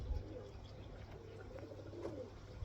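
Racing pigeons cooing inside a pigeon loft, soft low coos repeating faintly over a steady quiet background, with no talking.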